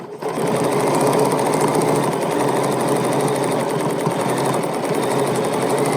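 A Bernina sewing machine runs steadily at speed, a dense fast rhythmic needle chatter that stays loud and continuous from start to finish with no talking over it.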